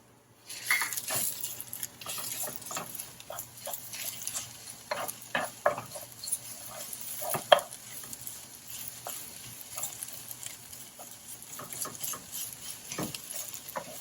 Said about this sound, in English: You just want to really mix this through and through. And just keep mixing it until it's kind of all together.